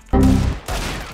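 Two bursts of rapid gunfire in CS:GO, loud and close, separated by a brief lull, with the second burst continuing to the end.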